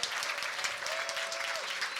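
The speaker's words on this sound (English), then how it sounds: "Let's give Chris and Kelly Murphy a big round of applause." A gala audience gives a round of applause to donors during a fundraising pledge, a dense, even roar of many clapping hands filling the room for a couple of seconds.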